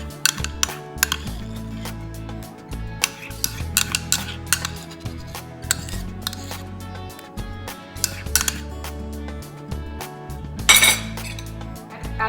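A spoon clinks and scrapes against a bowl as beef sisig is stirred together with mayonnaise, irregular close taps and rattles over a low background hum.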